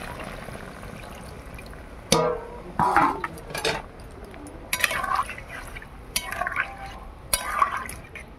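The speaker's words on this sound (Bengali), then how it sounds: "এবার দিয়ে দিচ্ছি পরিমাণ মতো জল।" Water poured into a pot of egg and potato curry, with several short splashing bursts and liquid gurgles separated by quieter pauses, close and moderately loud.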